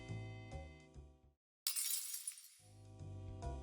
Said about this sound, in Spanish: en este caso es un efecto de vidrio rompiéndose.